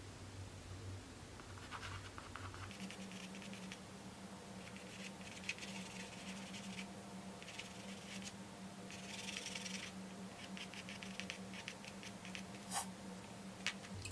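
Charcoal pencil and kneaded eraser worked over paper while drawing fur texture, giving soft, continuous scratchy strokes with occasional light taps, close and quiet throughout with no talking.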